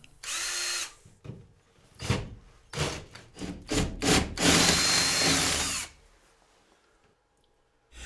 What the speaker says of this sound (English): I'm changing the bit to a larger size so that I can enlarge the hole in the ceiling.